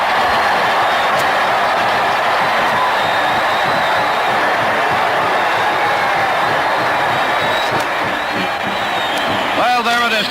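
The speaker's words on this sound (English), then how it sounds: "Listen to that crowd." Roaring stadium crowd at a Michigan at Ohio State football game after a made field goal, a continuous loud wash of cheering that holds steady throughout with no letup.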